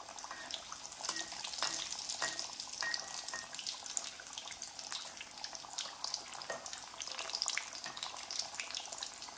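Dough snacks fry in a pan after oil is poured over them, giving a faint, continuous crackling sizzle with scattered tiny pops throughout.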